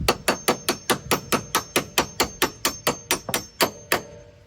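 Rapid, evenly spaced hammer blows on parts of an SC300 drift car, about fourteen sharp metallic strikes in a steady rhythm, close and loud, with no talking.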